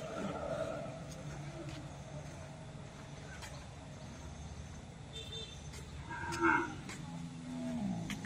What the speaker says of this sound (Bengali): গরু এখন নামাইতে যাচ্ছি